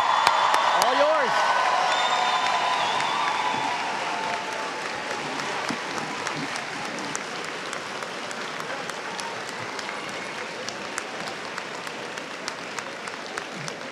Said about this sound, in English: a round of applause for our certificate, diploma, and associate degree graduates.